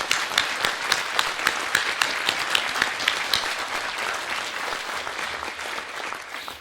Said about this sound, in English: I want to give you a round of applause for that